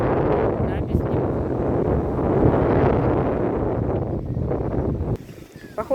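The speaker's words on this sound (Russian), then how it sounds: "Жуткий ветер." Strong, gusty wind ahead of a thunderstorm roars and buffets close to the microphone outdoors, a dense, loud rumble that holds for most of the stretch before easing slightly at the very end.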